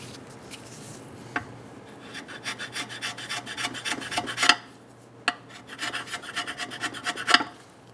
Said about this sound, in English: Try to scrape everything off of the side.